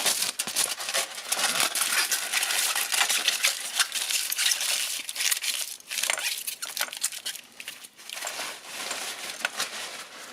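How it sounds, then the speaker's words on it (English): Aluminum foil is crinkled and wrapped over an open fuel-line port during EGR cleaning on a 1.6 HDi/TDCi diesel engine, a close, continuous crackling and rustling with irregular louder crunches throughout. "I'll put aluminum foil on that, so there's not really any chance of debris going in the fuel lines"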